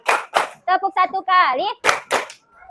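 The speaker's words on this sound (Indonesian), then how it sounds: "Tepuk satu kali." Children in a classroom clap in sharp bursts, two quick claps, then a short chanted phrase in young voices, then two more crisp claps near the end.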